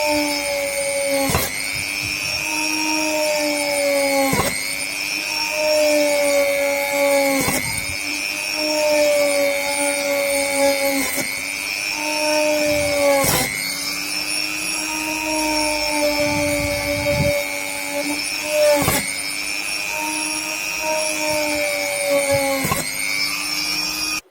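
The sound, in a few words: electric drill drilling a ring of holes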